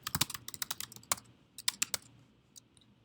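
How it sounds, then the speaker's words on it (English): Quick bursts of typing on a computer keyboard while filling in a web survey form: close, crisp key clicks in uneven runs with short pauses, then a few sparse final taps. "I'm going to type in some things this time, Mike"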